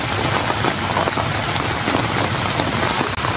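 Heavy rain from a night thunderstorm pours down steadily over a vegetable garden, a loud, unbroken hiss of drops drumming on surfaces throughout.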